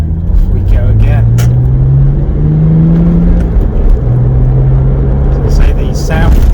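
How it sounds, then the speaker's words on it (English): A Porsche 996 C4S Cabriolet with a sports exhaust accelerates, its engine note climbing steadily and rising again after a gear change, loud and close, with a person talking over it. "the sound from the sports exhaust, absolutely fantastic"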